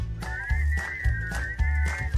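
Melodic whistling in a Persian-language version of a song from Snow White (2025), a clear warbling tune carried over a steady bouncy bass accompaniment, no singing voice.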